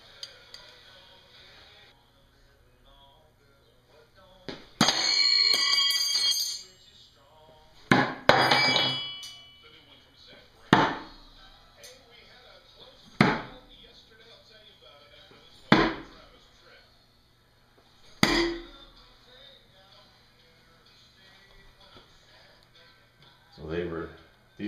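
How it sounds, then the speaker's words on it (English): Stainless steel throwing knives from a beginner 12-piece set are thrown in a batch of four, each striking the target with a sharp percussive thunk; several spaced impacts ring out close by, with faint speech between them. "I think I'll just throw four at a time."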